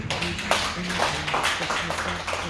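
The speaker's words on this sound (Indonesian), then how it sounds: "Bisa tepuk tangan buat Tuhan." Church congregation clapping for God during a worship service, loud rhythmic hand claps in a steady beat over sustained musical tones.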